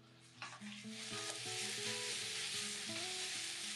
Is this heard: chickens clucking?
no